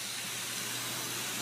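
Food sizzles steadily in a hot pan, seasoned with soy sauce, onion and scallion. The hiss is dense, continuous and fairly loud, with no voices over it.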